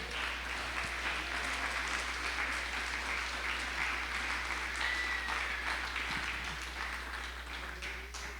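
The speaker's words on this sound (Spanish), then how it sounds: "dele el aplauso a nuestro Dios" Congregation applauding inside a church during a sermon, a steady dense wash of clapping that holds for the full stretch at moderate level, fading slightly at the end.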